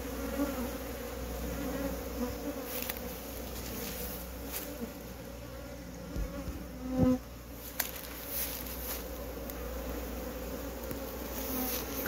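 Bees hum steadily at the entrance of a hive, a close, continuous drone with individual insects zipping past now and then and one brief louder buzz as a bee passes near.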